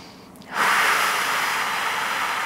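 Steady exhaled breath during a Pilates exercise against a wall, a soft hiss that starts after a brief quiet moment and holds steady and close for a couple of seconds.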